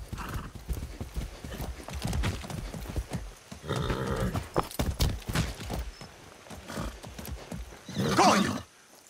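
A horse in the Far Cry 6 video game gallops with rhythmic clip-clop hoofbeats and lets out a loud neigh near the end, close and clear.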